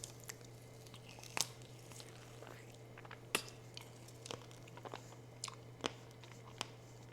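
Coconut yogurt bites are bitten and chewed close to the mic, with quiet crunches and a few sharper snaps spaced over a few seconds against a low steady hum.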